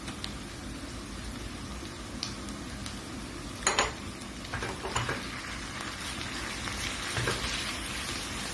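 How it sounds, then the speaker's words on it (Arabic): Onion and minced meat fry in fat in a pot for a pea and meat stew, a soft constant sizzle with occasional clinks and scrapes of a utensil against the pot, no talking. "راح اضيف البصل. طبعا عندي البصل راح اضيف اللحم مفروم"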